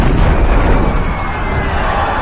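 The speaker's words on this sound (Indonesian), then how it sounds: "terdengar ledakan bom di luar plaza yang menambah kepanikan semua orang" A bomb explodes outside a plaza in a film scene, a loud sustained roaring blast with dense rumbling low end that fills the whole stretch without letting up.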